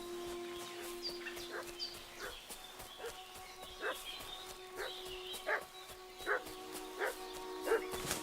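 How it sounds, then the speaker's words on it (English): In a medieval village in Kingdom Come: Deliverance II, a dog barks repeatedly at a moderate distance in short, irregular bursts, over faint ambient birdsong and a low steady hum. "What's that dog making such a fuss about?"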